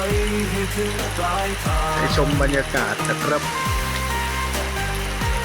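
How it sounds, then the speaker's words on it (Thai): Heavy rain in Bang Saphan falls in a constant broadband hiss, with someone talking over it throughout. "วันนี้ฝนตกหนักเลยนะครับ"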